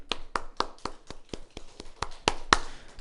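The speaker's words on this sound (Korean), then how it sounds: "우리 다시 한번 주님께 영광의 박수 한번 올려드리겠습니다" Sharp, distinct hand claps in a steady, brisk rhythm, about ten in three seconds, as a Korean church congregation claps in praise to the Lord during a Sunday service. Close and clear, with quiet gaps between claps.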